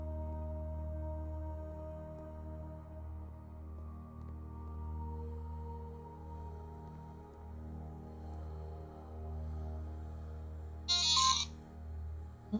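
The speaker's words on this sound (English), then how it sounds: "Why does my phone always have to ring when I'm streaming?" A mobile phone rings with a steady, sustained electronic ringtone that plays through the whole stretch at moderate level, with a brief brighter burst near the end and no talking.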